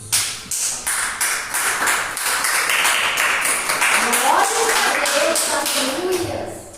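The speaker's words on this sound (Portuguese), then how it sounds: "E eu deixo as palmas para Jesus" A church congregation claps in praise during a teaching service, a run of quick, rhythmic hand claps up close in the first few seconds that gives way to a voice speaking over a fading patter.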